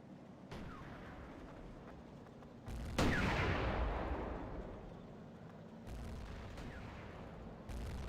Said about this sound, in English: I'm not sure what he's shooting at.